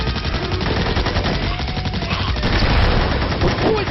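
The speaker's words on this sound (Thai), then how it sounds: "ใครเขายิงหัวมันสาดจังเลยเนี่ย" Rapid gunfire from a Magicka battle rattles on loudly and continuously, dense bursts of shots overlapping with no pause.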